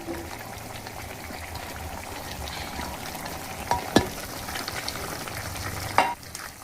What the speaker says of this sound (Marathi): आतां आमी कॅरट आनी पोटॅटो घालया